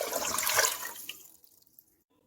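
A litre of water pours into a cooking pot for a cranberry juice recipe, a close splashing gush that fades into a few scattered drips and then quiet.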